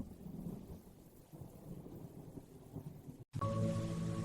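Thunder rumbles low and long in a forest during a sudden storm in an animated kids' story, with rain hissing steadily; after a brief cut, heavier rain and a tonal hum take over.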